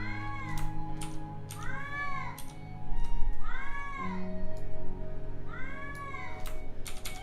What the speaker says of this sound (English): Sorry for the cat, he's a little bipsy now.